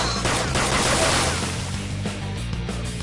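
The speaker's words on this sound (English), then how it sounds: "Point it at a shadow and fire." Dense rapid gunfire from a gun in Persona 5 Royal, a loud continuous burst of shots that thins out slightly toward the end, with no talk.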